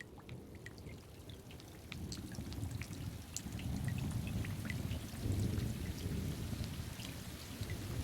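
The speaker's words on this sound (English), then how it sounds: "This happens every time a raindrop hits a puddle." Rain falls steadily onto wet ground and puddles, a dense patter of drops and splashes with a low rumbling wash beneath that swells midway, continuous with no speech.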